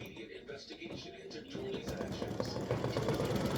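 A sewing machine runs a triple stitch around a fabric piece, its fast, steady mechanical chatter growing louder and denser after the first second and a half, with faint voices in the background.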